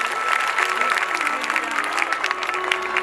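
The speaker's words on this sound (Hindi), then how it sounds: "जोरदार ताली होनी चाहिए।" Audience clapping at a Shrimad Bhagavat katha gathering, a steady dense wash of many hands that carries on without a break, fairly loud and close, with a few voices mixed in.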